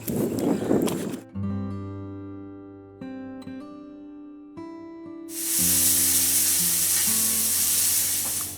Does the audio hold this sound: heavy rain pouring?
no